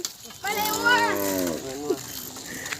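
Cattle in a herd lowing as they are let out of the first pen on a thick, foggy morning: one long, close, resonant moo followed by a shorter second call, with no talk.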